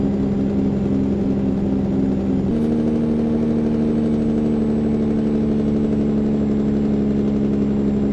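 A heavy truck engine in a truck-driving video game drones steadily, then shifts abruptly into the deeper, rumbling chatter of an engine brake that holds loud and continuous to the end.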